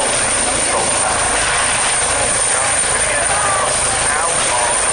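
RAF helicopters flying over the Cosford airshow, a steady loud rotor and engine drone filling the whole stretch, with crowd noise blended underneath.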